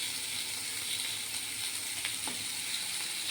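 Sliced snake gourd frying in a hot wok with poppy seeds and coconut, a steady close sizzle with faint stirring scrapes and no talk.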